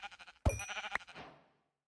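A sheep in the video game Lost on the Way bleats once up close, a short wavering cry that fades away, with a soft rhythmic patter before it.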